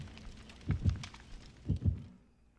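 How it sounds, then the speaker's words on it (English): Heartbeat in the Dead by Daylight game, two paired low thumps about a second apart, soft and steady with no talk over them. "I hear heartbeats in my headphones."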